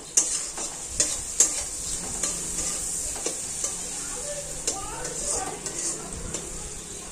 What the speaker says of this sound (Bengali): আর এইদিকে এই যে উচ্ছে ভাজতে বসিয়ে দিয়েছি।